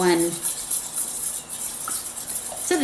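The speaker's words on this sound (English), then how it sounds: "I'm just whisking that in here" Whisk scraping and swirling rapidly through a smooth pumpkin spice mixture in a pan, a steady close rasp with high metallic ticks, a voice speaking over it at the start and end.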